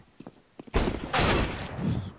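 Gunfire in the video game CS:GO, teammates hitting each other with friendly fire: a few faint clicks, then a loud close burst of rapid shots that carries on in heavy bursts to the end.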